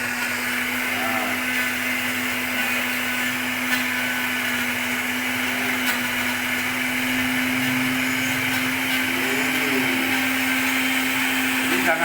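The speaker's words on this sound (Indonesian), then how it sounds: "Di blender aja ini dulu, Pak." An electric blender whirs steadily while blending herbal remedy ingredients, a constant motor drone with a strong hum tone and faint voices talking under it.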